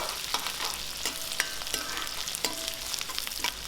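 Chopped shallots sizzle and crackle in hot oil for a Tamil curry-leaf kara kuzhambu, with a steady frying hiss and a few sharp pops and stirring scrapes throughout.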